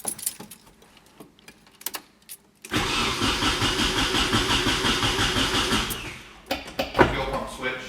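A drift-built car with a dead gauge cluster cranks and fires up for its first startup, the engine catching abruptly into a loud, steady idle that runs for several seconds before cutting out, with faint rattles and voices around it.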